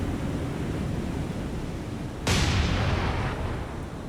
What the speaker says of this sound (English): All right, Nashville is firing.